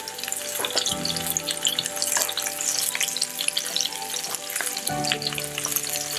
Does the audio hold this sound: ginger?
yes